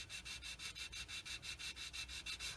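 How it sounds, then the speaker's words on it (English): Steady back-and-forth rasping of a soft, low-grit sander on a plastic Tamiya 1/48 F-51D Mustang model kit part, about a dozen even rhythmic strokes, close and quiet. "this really soft and low grit sander. Sand it and see what it looks like."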